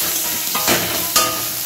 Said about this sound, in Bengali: রসুনটাকে তেলের মধ্যে একটু ভালো করে ভেজে নেব